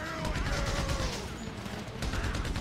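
Rapid bursts of gunfire rattle through a GTA V Online mission shootout, dense and continuous across the moment with voices talking over it.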